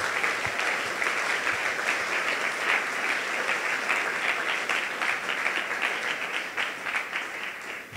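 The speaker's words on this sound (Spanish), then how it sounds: "denle un gran aplauso a nuestro Rey" Congregation applauding during a Sunday church service, dense continuous clapping from a large group held at a strong, even level for several seconds before tapering at the very end.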